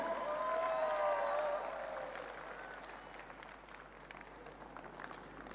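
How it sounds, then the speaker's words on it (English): Audience applause fills a hall at a large cryptocurrency event, a steady wash of clapping with a few faint cheers that slowly fades, while a tonal musical line sweeps across the opening seconds. "One big round of applause for Mr. Wenceslav Zlatko, the CEO of One Ecosystem"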